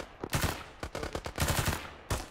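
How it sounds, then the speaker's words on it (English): Automatic gunfire rings out in ArmA 3 during a Western Sahara combined-arms operation as a technical opens fire. Loud, close bursts of rapid shots come in several clusters with short pauses between them. "Looks like he's shooting now"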